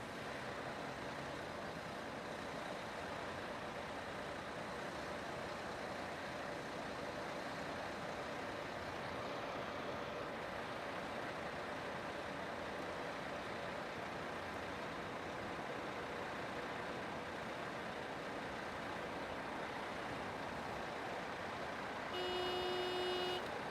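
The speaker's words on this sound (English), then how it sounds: "The applicant has honked his horn to indicate that he has successfully completed the alley dock backing." Truck horn sounding after an alley dock backing exercise on a driving test course, a short pair of tonal honks at the very end following a long stretch of quiet distant engine and traffic hum.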